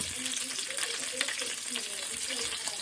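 Bacon sizzles and crackles in a pan for goulash, a continuous moderate frying hiss with small pops throughout.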